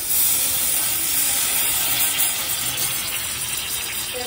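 Ada, a Kerala rice-flour parcel, set onto a hot pan steams and sizzles in a steady broadband hiss that stays loud and even throughout, with no voices over it.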